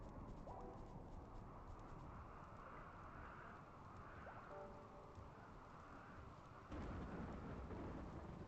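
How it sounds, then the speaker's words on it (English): Steady rain and rolling thunder from a dry thunderstorm in the game Rimworld, a dense continuous wash of rumble that holds level and then swells slightly louder toward the end, with no voices. "the dry part of the dry thunderstorm is just about over"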